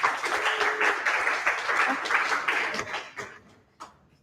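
A meetup audience gives a round of applause in a new event space, a full steady burst of clapping that tapers off into a few scattered claps.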